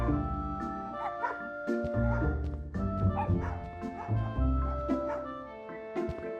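Small dogs at an animal shelter in a PC adventure game bark, yip and whimper repeatedly in quick bursts over a soft looping musical background.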